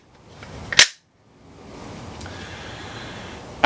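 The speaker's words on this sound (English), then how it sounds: "and load it into the gun." A snap cap in an empty magazine loaded into a handgun: a sharp metallic click as the magazine seats, a brief quiet, then a steady low hiss and another crisp snap at the end, close by.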